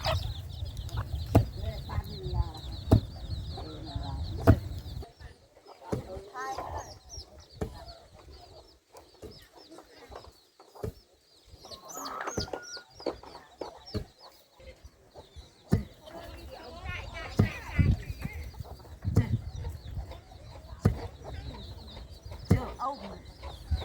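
Chickens cluck and call in a quiet village, with scattered bursts and short crowing-like cries spread over about twenty seconds, mixed with thumping and rustling, and people talking nearby at times.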